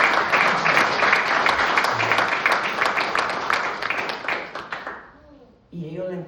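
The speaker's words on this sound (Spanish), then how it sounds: "Démosle palmas al Señor." A church congregation claps together in a fast, steady rhythm for about five seconds, then stops as a voice begins speaking.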